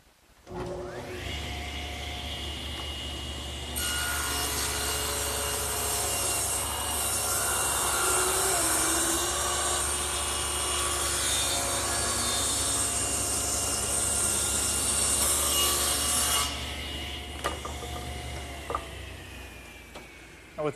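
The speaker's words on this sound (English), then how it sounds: "So I'm going to start squaring it up by running one side through the saw" Table saw rips one edge of glued-up wood stock along the fence, the motor spinning up, then a sustained loud cutting whine for about twelve seconds before the blade runs free and winds down.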